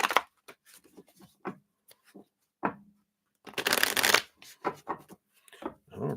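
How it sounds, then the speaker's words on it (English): Tarot cards shuffled in quick bursts of papery riffling and flicks, close and fairly quiet, with a longer dense riffle in the middle and short pauses between. "Let's shuffle these up."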